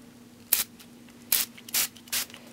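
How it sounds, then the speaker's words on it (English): A spray bottle misting Woolly Revitalizer onto wet wool diaper covers turned inside out, heard as several short, close hissing bursts with pauses between them in a quiet room. "give them a spray before I let them dry with my Woolly"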